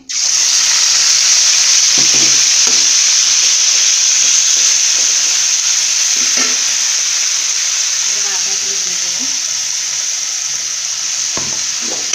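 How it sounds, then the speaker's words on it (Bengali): Greens poured into hot oil for a mutton biryani meal, giving a loud, continuous frying sizzle and hiss throughout, with faint stirring clinks and a voice in the background. "গরম হলে আমি শাকগুলো ঢেলে দেব তেল গরম হয়ে গেছে"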